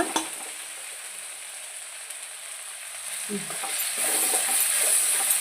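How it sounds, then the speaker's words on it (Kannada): Tomato with a pinch of turmeric frying in a pan for a potato palya, a steady close sizzle with scraping stirs that grows slightly louder toward the end, no voices. "ಸ್ವಲ್ಪ ಅರಿಶಿನ ಹ್ಯಾಡ್ ಮಾಡಿ ಈ ಥರ ಫ್ರೈ ಮಾಡೋಣ"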